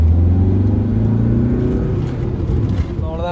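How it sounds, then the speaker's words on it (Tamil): A Volkswagen Vento car accelerates in second gear, its engine drone rising steadily in pitch. The sound is close and continuous, then eases slightly near the end. "இப்போ வந்து இந்த வண்டி செகண்ட் கியரில் போயிட்டுருக்கோம்."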